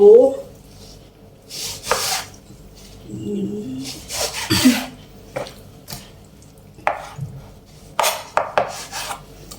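Beef tenderloin being sliced for barbecue, with intermittent knife strokes and soft taps on a board, some rubbing scrapes, and a voice speaking in between cuts.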